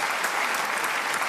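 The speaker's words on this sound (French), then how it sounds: "On l'applaudit encore, on l'encourage." A studio audience applauds a contestant at a talent show, a thick continuous burst of clapping, loud and close throughout the short stretch.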